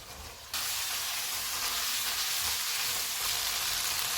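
Chicken pieces fry in oil on medium heat until the oil separates. A steady, bright sizzle starts abruptly after a quiet moment and continues evenly, close by, with no voices.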